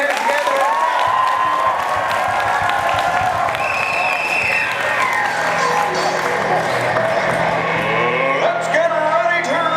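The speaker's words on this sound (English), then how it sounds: "We're going to clap, we're going to shout, and let's do that now. Put your hands together" A Comedy Sportz theatre audience claps and shouts together, a dense roar of applause and cheering that fills the whole stretch at steady loudness, with some voices and music mixed in.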